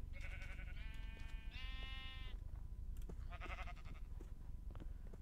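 Sheep bleating in a video game, several distinct wavering bleats in quick succession over a steady low background hum, with a short gap before a final bleat; no talk.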